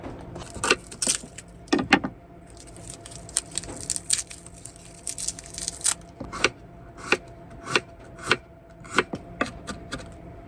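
Garlic minced with a small knife on a small cutting board, giving sharp, irregular chopping taps in clusters, close and fairly loud, with a faint steady hum beneath during a rainy car-camping cook-up.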